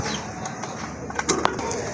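Madrasi Golla pigeons cooing nearby, with soft repeated low coos and a few brief sharper calls over a steady background hum.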